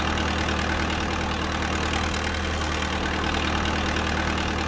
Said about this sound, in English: Turn the engine on by turning the keys.